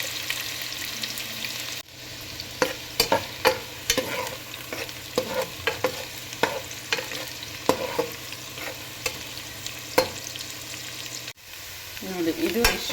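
Chopped onions frying in hot oil for chicken biryani, a steady sizzle broken by repeated scraping and stirring knocks of a spoon in the pan, with no talking.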